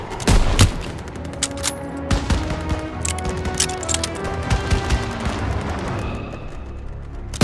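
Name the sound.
gunfire in Call of Duty WWII video game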